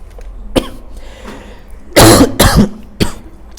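Several sharp, loud coughs close by, a single one, then a quick burst of two near the middle, and one more near the end, with quiet between.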